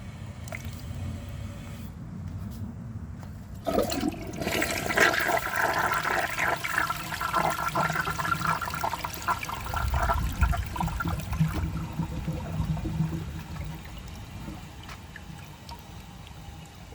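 A 1983 Eljer Hygeian toilet flushes with a loud rushing surge of water that swirls and drains, then settles into the steady hiss and trickle of the tank refilling, heard close with no talking.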